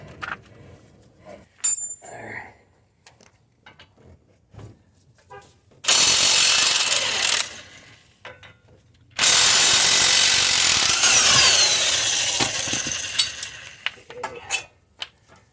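On a Honda Odyssey, a power tool removes the 19mm brake caliper bolts in two long, loud whirring bursts, separated by quiet moments with small clinks of tools nearby.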